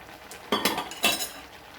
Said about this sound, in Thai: ผัดนะครับผัดเข้าให้ทั่วนะครับ